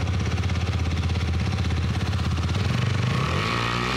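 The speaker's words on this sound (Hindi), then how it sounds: "एक बार ना मैं थ्रॉटल देता हूँ तब सुनते हैं।" A KTM Duke 250 motorcycle idles in a steady exhaust thump, then the throttle is blipped near the end and the engine revs up sharply, loud and close, with no voice.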